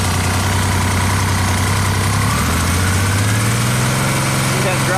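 A Yamaha engine with a battery charging problem runs steadily near idle, then its steady hum climbs in pitch as the RPM is raised in the second half, loud and continuous throughout.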